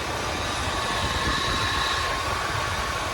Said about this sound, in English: When you reduce the airflow, the idle RPM comes down.